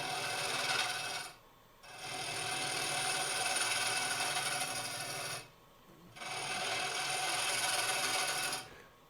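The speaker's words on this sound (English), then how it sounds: "This is the Hunter carbide cutter so that it's slicing, it's on an angle, and it's a sharp carbide, so it's razor sharp." A razor-sharp Hunter carbide cutter slices at an angle while hollowing a natural-edge spalted maple calabash form on a lathe. A steady, close rasping hiss runs in three long passes with brief gaps, alone and without talk.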